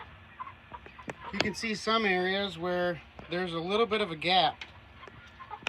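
Chickens in a gas-powered chicken tractor cluck and squawk close by in several rising, warbling bursts while someone talks over them.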